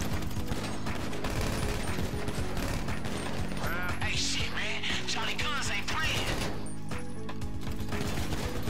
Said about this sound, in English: They trying to shoot Dre's studio?